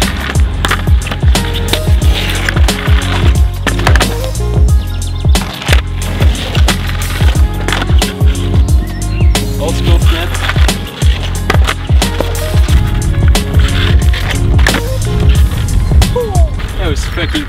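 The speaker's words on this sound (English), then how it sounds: "Ghost ride kickflip." An old, heavy, wide longboard with no tails and broken trucks rolls and clatters through a ghost ride kickflip, wheels grinding steadily on pavement with repeated hard board slaps and knocks, loud and close throughout.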